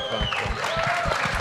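Applause and cheering break out from a studio audience during a Brazilian comedy game show with congressmen and guests, a short burst of clapping mixed with crowd noise.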